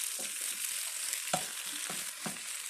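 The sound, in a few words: frying drumstick pieces in a pan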